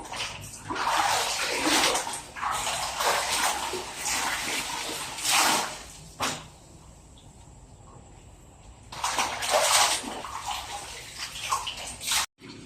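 Laundry is rinsed by hand in a basin of water, with repeated loud sloshing and splashing in bursts and a quieter pause in the middle, no talking.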